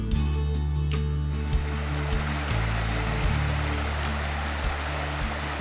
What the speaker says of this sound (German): Im Oberbereich hat der Fluss den Charakter eines Bergbaches.